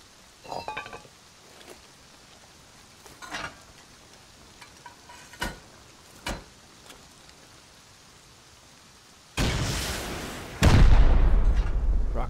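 Rockets blasting a raid base in the survival game Rust: a few sharp, separated booms early on, then a long loud rumbling explosion near the end, with no voices.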